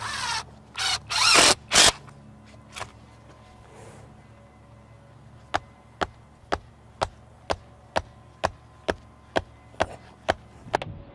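Landscape edging stakes driven in with fasteners: a burst of loud power-tool whirring up front, then a steady series of about a dozen sharp, evenly spaced impacts close by, with no talk.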